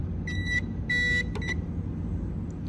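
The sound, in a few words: Noritz tankless water heater control panel beeping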